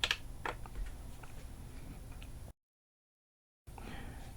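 Keys pressed together on an M-Audio Oxygen25 MKV MIDI keyboard controller, giving soft plastic clicks and taps close by, followed by a short silence and then more faint handling noise.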